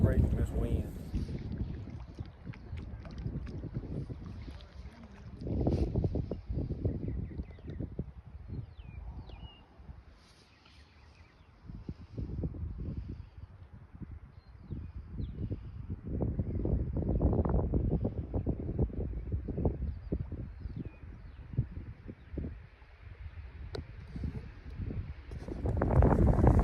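Strong gusty wind at a lake roars and buffets the microphone almost continuously, with low rumbling swells that ease briefly and then build again.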